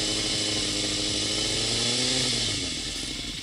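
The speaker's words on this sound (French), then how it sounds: "habitue-toi déjà à mettre un petit filet de gaz" A motorcycle engine revs under a light, gradual throttle, a close, loud buzzing drone that climbs smoothly in pitch and then eases slightly, with no voices.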